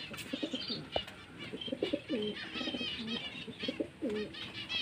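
Pigeons cooing close by, repeated throaty coos in a steady rhythm along with a few chirps, no talking.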